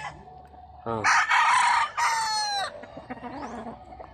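A rooster crows loudly and close by in two long drawn-out calls, with softer clucking from other chickens afterward, at a gamefowl farm in Danao City.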